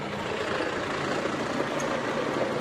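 A 2015 Kubota BX2670 compact tractor's engine idles steadily nearby, a low even diesel rumble with slight fluctuations and no talk.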